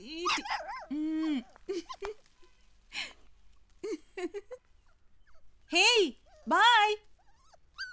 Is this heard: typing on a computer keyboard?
no